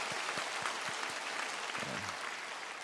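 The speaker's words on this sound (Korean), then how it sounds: "박수를 치려면 다 같이 치십시다" Congregation applauding together in a church, a dense, steady burst of many hands clapping at fairly close range, filling the whole moment without voices over it.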